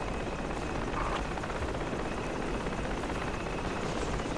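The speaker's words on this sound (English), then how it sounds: "Enemy helicopter landing northeast of us." A helicopter in a military shooter video game gives off a steady, distant rotor rumble that blends into the noisy battlefield ambience and stays constant throughout.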